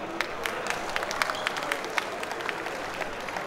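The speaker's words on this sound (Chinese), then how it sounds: "这两位老大，我们给他们掌声好不好？" An audience applauds at the opening ceremony of a cultural and sports association's fifteenth anniversary, dense steady clapping from many hands for a few seconds.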